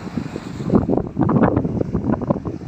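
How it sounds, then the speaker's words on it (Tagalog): Strong southwest monsoon wind gusts across a sandy beach, buffeting the microphone in uneven rumbling bursts that swell and fade without pause. "sobrang lakas ng hangin dito, hangin habagat"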